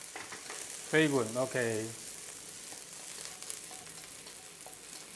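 Mushrooms sizzle and crackle while being stir-fried in a hot pan for chicken chow mein, with a steady frying hiss throughout and a voice speaking briefly over it.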